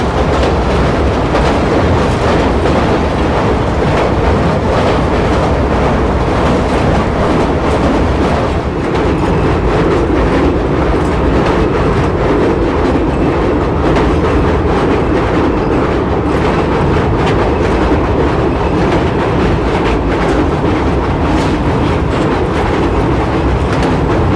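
The Bhopal Shatabdi Express runs near Morena after crossing the Chambal river, a loud continuous rumble of wheels on rails with steady clickety-clack, heard close from on board with no talk.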